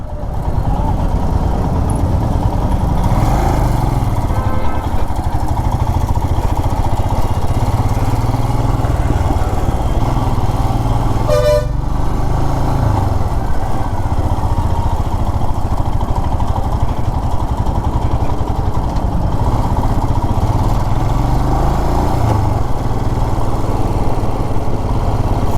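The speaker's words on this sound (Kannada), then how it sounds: "ಏನು ಟ್ರಾಫಿಕ್ ಗುರು, ಹೆಚ್ಚು ಕಮ್ಮಿ ಒಂದು 5-6 ಕಿಲೋಮೀಟ್ರ್ ಬಂದ ಸಿಕ್ಕಾಬಟ್ಟೆ ಟ್ರಾಫಿಕ್" Steady roar of a motorcycle ride through heavy road traffic on the way into Bengaluru, with constant engine and road noise throughout and a single short horn honk near the middle.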